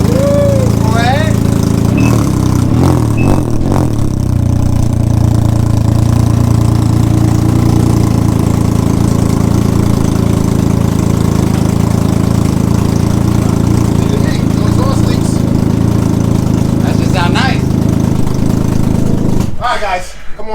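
A car engine idles steadily with a newly fitted Silber Turbo exhaust, a loud, continuous low rumble running throughout, with people talking over it.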